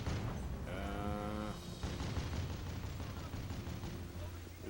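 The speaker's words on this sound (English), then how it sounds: "Got 4 enemy rail cannons pounding the hell out of a transport craft." Enemy rail cannons in a video game pound a transport craft, a dense barrage of booming fire with a harmonic whine rising partway through, continuous and loud over rumbling background noise.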